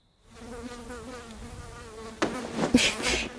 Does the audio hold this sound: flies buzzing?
yes